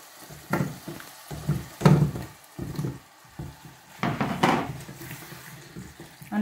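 Taro with hilsa fish sautéing in a pan, with intermittent scraping stir strokes and bursts of sizzle, close up, pausing between strokes.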